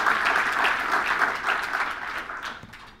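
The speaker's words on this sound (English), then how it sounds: "Let's give Nancy another round of applause for that phenomenal introduction" Rotary meeting audience applauding a speaker's introduction, loud dense clapping that tapers off gradually over about three seconds.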